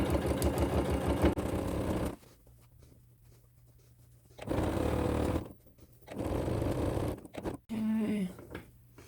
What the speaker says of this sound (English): sewing down this side along that crease and fold in my double fold bias tape